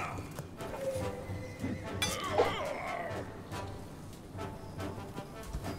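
A horse whinnies in the fantasy strategy game The Banner Saga 2, a rising neigh in the middle set over soft thumping hoofbeats and game ambience.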